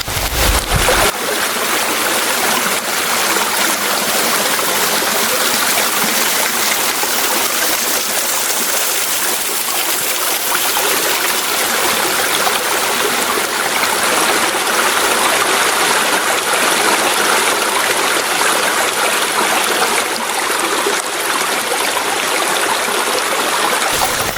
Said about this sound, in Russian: Вот еще один маленький водопадик.